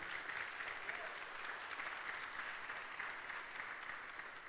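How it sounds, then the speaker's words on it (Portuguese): A church congregation applauds during a service, giving a steady, even roar of many hands clapping at a moderate distance, continuous throughout. "Você pode aplaudir Jesus por isso? Aplauda Ele"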